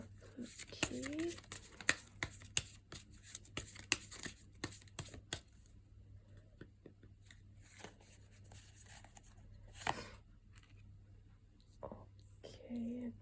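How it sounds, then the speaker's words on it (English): Oracle cards being shuffled and drawn by hand, a quick run of soft riffling and slapping card sounds in the first few seconds, then sparser light handling, with quiet whispery background. "Next, I'm going to pull oracle cards."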